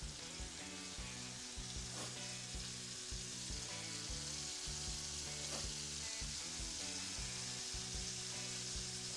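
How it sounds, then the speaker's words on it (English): Butter melts and sizzles in a heated pan as the base for a cheesy mushroom and spinach pasta sauce, a steady close frying crackle with stirring, no talk. "I have about 4 tablespoons of butter in here that I'm gonna put inside the heated"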